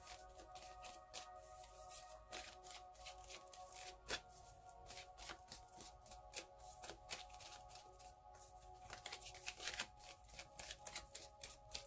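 Tarot cards being shuffled for a reading, with crisp, close, repeated riffling and sliding bursts that come in an uneven rhythm, and no talking.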